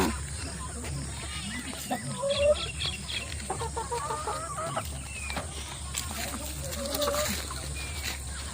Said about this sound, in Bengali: মুরগিগুলো কোথায় লুকোচ্ছে দেখছো বন্ধুরা?